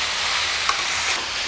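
Spicy red chilli chicken frying in a pan as it is stirred, a continuous close, loud sizzle with a faint scrape partway through.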